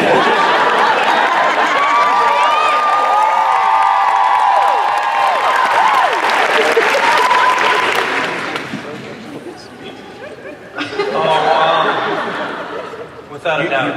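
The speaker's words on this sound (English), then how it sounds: "You're clapping for death." A studio audience claps and laughs during a panel with the American Gods cast, with loud applause and cheering under animated talk and laughter that dies down, then rises briefly again.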